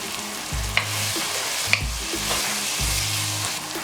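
Jollof spaghetti sauce with gizzard and seasoning cubes cooks in a pot, giving a steady close sizzle with repeated low rumbling stirring strokes and a couple of sharp utensil clicks, no voices.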